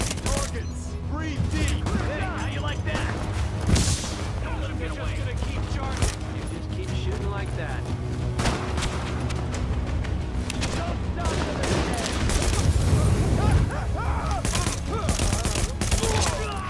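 Sustained gunfire in The Division video game, with dense overlapping shots and bursts running throughout alongside an explosive boom, while voices speak beneath the combat.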